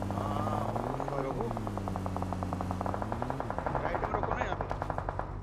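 Rapid automatic gunfire rattles in the mobile battle royale game BGMI as a steady, dense stream of shots, while someone talks over it throughout.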